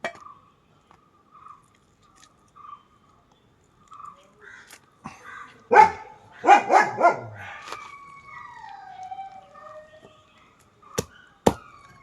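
A dog lets out a short cluster of sharp barks near the middle, loud against an otherwise quiet outdoor background with a few faint scattered calls and ticks.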